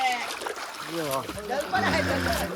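Water splashes and sloshes nearby in a swimming pool as people shout and chatter over it.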